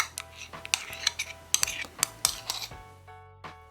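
A spatula stirs a chocolate mixture for a Nesquik ice-cream bar in a bowl, giving a run of sharp clinks and scrapes against the sides that thin out near the end. No one speaks.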